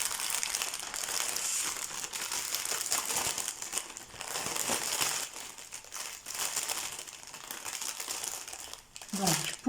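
A glossy paper cross-stitch pattern sheet is handled, giving close crinkling and rustling throughout, with crisp crackles and a brief thud near the end, while someone talks over it.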